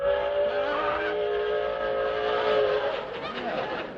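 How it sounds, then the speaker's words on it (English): A long, sustained train whistle blowing steadily with rich harmonic tones, loud and continuous for several seconds, tapering slightly at the end. "train whistles scare me"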